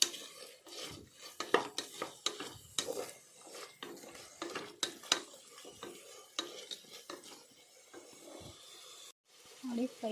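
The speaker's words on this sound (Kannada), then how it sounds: "ಬೆಳ್ಳುಳ್ಳಿ ಪೇಸ್ಟ್ ಹಾಕ್ತಾಯಿದ್ದೀನಿ. ಇದು ಚೆನ್ನಾಗಿ ಫ್ರೈ ಮಾಡ್ಕೊಳ್ಳೋಣ." Garlic paste fries in a pan while being stirred, producing close, uneven scraping and rasping strokes of a spoon over a faint sizzle, with short pauses between strokes.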